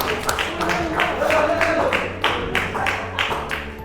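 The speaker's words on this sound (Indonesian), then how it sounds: "Tepuk tangan." Students clap together in a classroom after a correct answer in an Islamic history lesson, a burst of sharp, fairly close hand claps with some voices mixed in.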